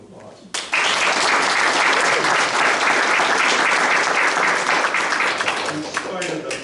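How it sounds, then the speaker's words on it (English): Applause at a Webster board meeting breaks out after a short pause and holds steady as a room of people claps together, then tapers slightly near the end. "if you would please give her a round of applause."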